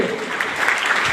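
An audience at a business-plan meeting in Samastipur breaks into loud, steady applause for a silver star achievement, many hands clapping densely and continuously at close range.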